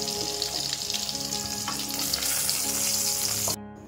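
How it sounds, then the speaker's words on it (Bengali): Pieces of pointed gourd crackle and sizzle steadily in hot oil, a dense close-up frying hiss with faint utensil clinks that cuts off abruptly near the end. "পটলগুলো লাল লাল করে ভাজা হয়ে গেছে"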